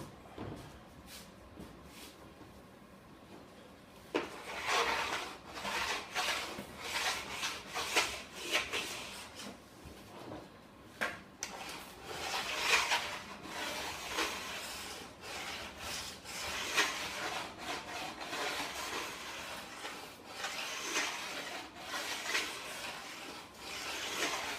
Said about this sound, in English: Sharpen the edges, takes burrs off in case you've hit some rocks